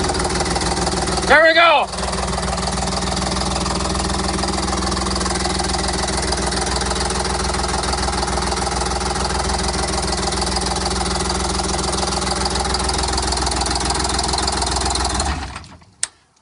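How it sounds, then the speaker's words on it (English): A Detroit Diesel 6V92 engine idles after a cold start, running rough on half its cylinders, a steady loud droning rumble with a brief voice near the start before it cuts off at the end. "We're actually running on half the engine."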